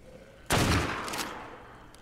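A single loud rifle shot in the video game ARK: Survival Evolved, with a sharp onset and a long reverberant tail that fades over about a second and a half. No talking.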